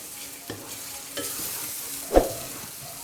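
A spoon scrapes through daal and masala frying in a pan with a little added water, making three separate stirring strokes, the last one sharper and louder, over a faint sizzle.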